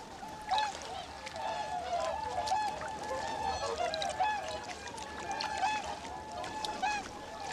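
A flock of swans honks and trumpets on a thermally heated lake in Japan in winter, with many overlapping calls near and far over a steady background hiss.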